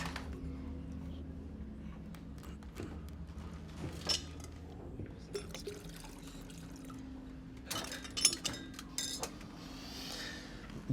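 Water trickles and splashes into a glass amid small clinks of glassware, with quiet room noise between the pours.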